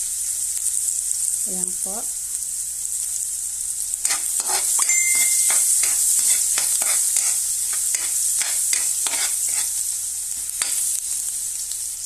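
Ginger and garlic go into a hot pan for chicken feet, starting with a soft steady sizzle, then a spoon stirs with quick, repeated scraping clicks over continuous frying; a voice speaks briefly early on.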